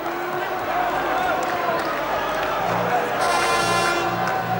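A crowd of about 11,000 fills an indoor arena at a 1986 NBL basketball grand final between Adelaide and Brisbane, a steady loud roar and cheering with horn blasts, under a commentator's voice.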